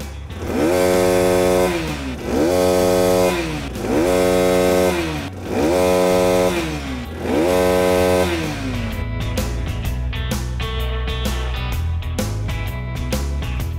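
A small motorcycle engine with its air filter fitted is revved hard toward maximum RPM five times in a row, each burst climbing steeply and falling back. A rougher, uneven idle with rapid throttle blips follows, loud and close with no talk.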